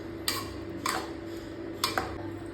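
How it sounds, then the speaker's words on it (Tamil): Ivy gourd curry with kasuri methi being stirred in a pan gives a few light, sharp clicks of the spoon against the metal, four or so spaced taps over a quiet background hum. "கசூரி மேத்தி ஆட் பண்ணிட்டு ஒரு வாட்டி கூட நல்லா கலந்து விட்டுக்கோங்க"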